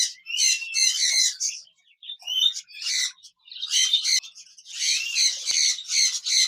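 Pair of large budgerigars kept as a breeding pair, squawking and chattering in dense bursts with short pauses, close and loud with no talk.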